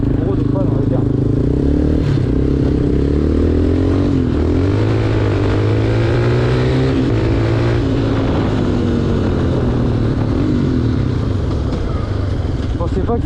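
A Yamaha Raptor 250 quad's engine runs loud and steady while riding, its pitch rising and falling through revs, with a continuous drone and no pauses.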